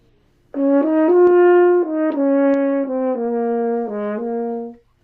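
A solo French horn plays a short, smooth phrase of several sustained notes, full and resonant, rising slightly then settling lower before fading out.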